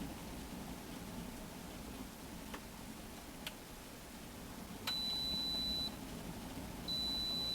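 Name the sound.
electric kettle beeping when done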